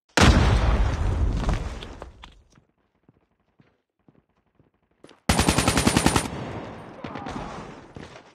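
Bursts of rapid automatic gunfire in the Call of Duty Mobile shooter game, a loud dense volley fading out, a quiet gap with faint clicks, then another sharp rattling burst.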